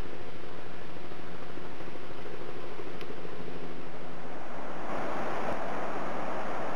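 A river flows near the Hummocks Trail at Mount St Helens, heard as a steady, moderately loud rushing wash that grows slightly brighter and fuller toward the end, with no voices.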